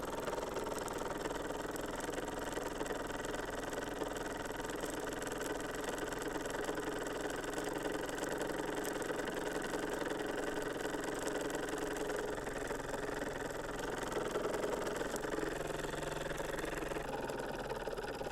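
A Jensen or Mamod live steam stationary engine runs on a table, giving a steady, fast mechanical chugging and rattling hum at a constant pace, close and unbroken.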